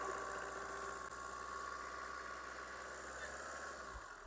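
A Tata Indica car engine idles steadily at a used-car lot, a low continuous hum with faint vibration, held at an even level throughout with no talk over it.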